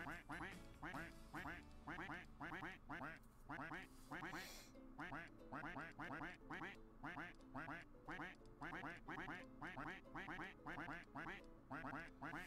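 Cartoonish duck quacks from the Roblox game Duck Army repeat in a steady, dense rhythm throughout, loud and continuous, layered over a game backdrop.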